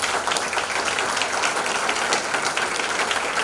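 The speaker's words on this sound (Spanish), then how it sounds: "aplauso." Closing applause at the end of a videoconference on writing scientific articles, a dense, even wash of clapping that sounds almost like rain, continuous and moderately loud with no talk.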